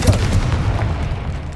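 A Confringo blasting spell explodes in Hogwarts Legacy, giving a loud, deep boom at the start that rolls off into a rumbling decay with a low background drone and no talking.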